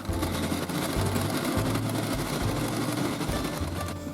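A Prym Maxi knitting mill being cranked gives a steady mechanical whirring hum with a rhythmic low thumping pulse, loud and close, with no talk.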